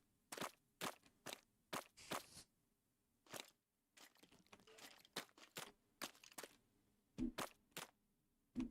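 Gunshots hitting the player in Minecraft near mud blocks: a string of sharp, dry cracks and thuds in irregular bursts, crisp and close against near silence.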